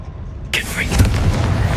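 The Confringo blasting spell from Hogwarts Legacy goes off as a sudden, loud blast after a quiet moment, then trails into a thick, booming rumble of debris.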